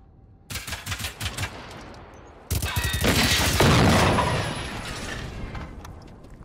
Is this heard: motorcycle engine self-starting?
no